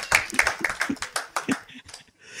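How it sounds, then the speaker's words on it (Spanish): Congregation clapping for the Lord at a Christian church service, a run of about ten sharp hand claps at a brisk, uneven pace, close and fairly loud, with a voice faintly mixed in. "Dele un aplauso al Señor"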